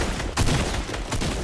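A drum gun in a video game fires in sustained rapid bursts, loud and continuous with slight surges in the volley.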